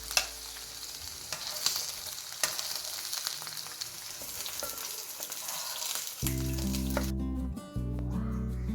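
Chicken sizzling steadily in a pan for a Nepali-Chinese fried rice, a close, continuous crackle with occasional stirring, then a sustained tonal hum takes over near the end.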